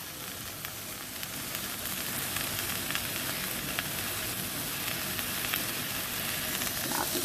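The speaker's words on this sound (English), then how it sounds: "And then I'm going to saute the shrimp." Shrimp sautéing in a pan with soy sauce and a squeeze of honey, giving a steady, dense sizzle and crackle throughout at close range, with occasional stirring and no voices.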